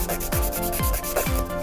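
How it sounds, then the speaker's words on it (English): A hand nail file shapes a fingernail with short, even rasping strokes in a steady rhythm of about two or three per second, close and clear, with no voices. "You can do this one with the drill too, but I do find it more accurate with the hand file."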